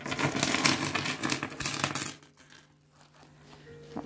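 Coins pour out of a purse in a loud, dense jingling rush lasting about two seconds, then a few scattered clinks as loose coins settle.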